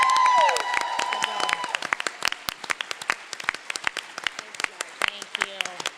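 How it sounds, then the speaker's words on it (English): Audience at an Earp Division Expo panel breaks into a big round of applause, dense clapping with a few cheers and voices mixed in, thinning to scattered claps toward the end. "Can we please get a big Earp round of applause for Emily, Rachel, and Charlotte."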